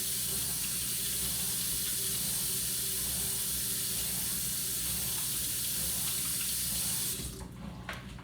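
Tap water runs steadily into a kitchen sink while hands are washed, a close, even hiss for about seven seconds before the flow is shut off and the sound drops away.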